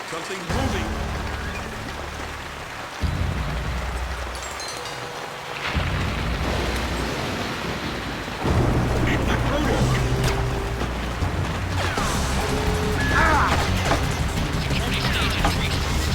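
Thunder and steady rain in Splinter Cell: Pandora Tomorrow, a continuous wash of rainfall with low rumbling swells that build and shift throughout, mixed with game ambience and brief voices.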